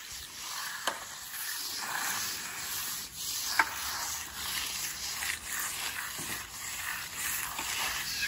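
A hand trowel works across a fresh concrete slab, making soft repeated scraping and rubbing strokes at close range with a few sharp clicks mixed in.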